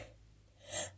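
A single person's sneeze, a short breathy intake rising into one sharp burst near the end, heard alone and fairly close.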